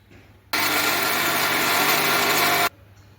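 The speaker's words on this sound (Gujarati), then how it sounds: "હવે તેને આપણે મિક્સરમાં ક્રશ કરી લેવાનું છે।" Mixer grinder running at full speed as it crushes sesame seeds and peanut powder, a loud steady whir that starts abruptly, holds for about two seconds and cuts off, with quiet room background on either side.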